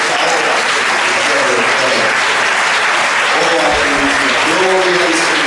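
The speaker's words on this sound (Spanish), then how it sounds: "Denles aplausos al Señor." A church congregation gives loud, sustained applause during a sermon, dense clapping that fills the room with voices calling out over it.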